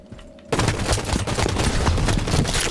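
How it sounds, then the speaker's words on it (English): Rapid gunfire in a shooter game erupts suddenly after a quiet moment, a loud, sustained stream of close shots with no talking over it. "I'm getting shot at by a sniper"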